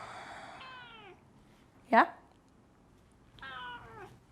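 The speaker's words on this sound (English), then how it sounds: "Oh, kitty cat." A pet cat meows twice close by indoors during a home Pilates session. The two drawn-out mews are separated by a quick spoken word.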